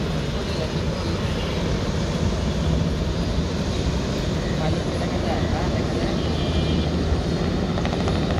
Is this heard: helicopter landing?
yes